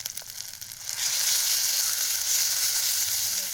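Garlic paste masala with salt and turmeric sizzling in a pan over a riverside village cooking fire, with a steady close hiss that rises after the first second and holds.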